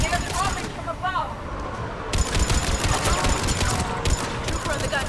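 Bursts of rapid automatic fire from a trooper's mounted gun in the Mass Effect 3 video game, loud and continuous with brief gaps between volleys, over dense battle noise.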